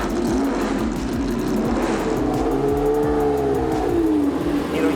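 Sports-prototype race car engine, Porsche 917, Ferrari 512S or Lola T70, its intake roaring loud and close, rising and falling with revs from inside the cockpit, continuous and dominant.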